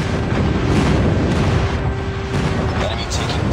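Dense, continuous rumble of booming airstrike explosions in Call of Duty Mobile, loud and sustained, with game chatter and effects layered over it.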